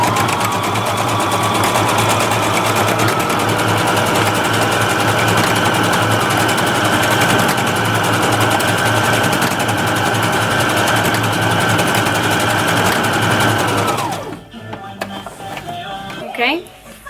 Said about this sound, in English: She sews it a couple times back and forth, as you can see.